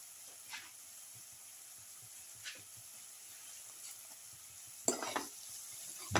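A bottle gourd and potato casserole is stirred in a pot, with soft, sparse scraping strokes over quiet background hiss and a louder clatter near the end.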